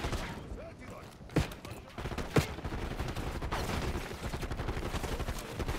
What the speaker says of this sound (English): Who the fuck was shooting me?